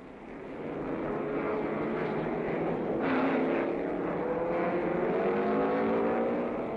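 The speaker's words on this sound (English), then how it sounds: "Delmo Johnson's lightweight Corvette is first away and streaks past the slower starters." Race cars, led by a lightweight Corvette, accelerate away at the start of the 1965 Sebring 12 Hours, a loud building engine roar whose rising whine swells and passes close by.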